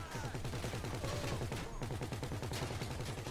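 A vehicle-mounted gunner firing rapid continuous bursts in the game GTA Online, a dense, fast rhythmic automatic-weapon rattle throughout with overlapping shot impacts, a voice briefly talking over it.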